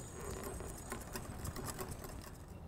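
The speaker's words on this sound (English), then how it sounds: "Fresh squeezed lemon juice in the bowl. Give it a whisk." Garlic, tarragon and lemon juice are whisked in a bowl for a caper aioli, producing a quick, steady scraping and clicking that runs nonstop, close by and moderately quiet, with no talk.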